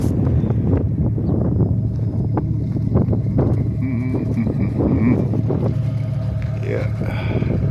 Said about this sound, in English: might be windy a little bit